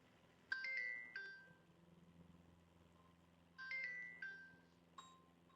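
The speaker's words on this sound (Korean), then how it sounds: "전화가 왔는데 일단" A mobile phone rings with an incoming call. A melodic electronic ringtone plays two short phrases of bright chiming notes over a low steady hum, then gives a single ping. The sound is moderate and nearby.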